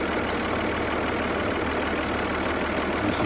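A failing AC compressor on a 2003 Saturn Vue with the engine running makes a loud, steady, broadband whirring drone, close up and unbroken throughout.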